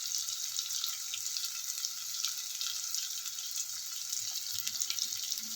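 Chopped carrot pieces fry in hot oil for millet upma, giving a steady, moderately loud sizzle and crackle that runs continuously without talk.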